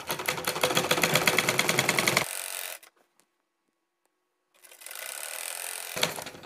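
Sewing machine stitching the side seam of a kameez, a fast, dense mechanical whirr for about two seconds, then silence, then stitching resumes near the end, close and loud.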